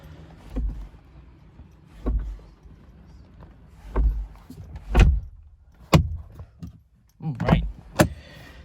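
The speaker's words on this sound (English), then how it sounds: "Let's shut the door now." A series of dull thumps and knocks, several spaced out over the clip, like a Mercedes S-Class driver's door being pushed and shut repeatedly, close by.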